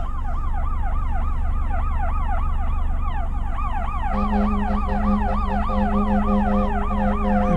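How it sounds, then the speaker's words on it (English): An ambulance siren wailing continuously in city traffic, heard from inside a car with steady road rumble, its rising-falling tone joined midway by a second, steadier siren as vehicles pass. "you can hear the ambulance."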